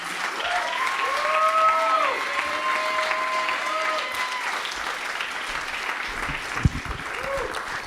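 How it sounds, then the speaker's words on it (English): An audience at a poetry open mic applauds a poet, with sustained, even clapping throughout and voices and some tonal sounds over it, plus one sharp knock near the end. "And just keep the round of applause going."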